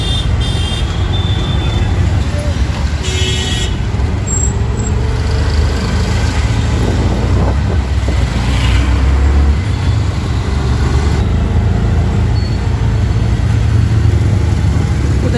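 Auto rickshaw ride through Delhi traffic: a steady rumbling engine drone with road noise and surrounding vehicles, continuous and close throughout, with faint occasional horn-like tones.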